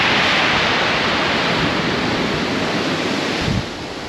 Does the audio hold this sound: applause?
no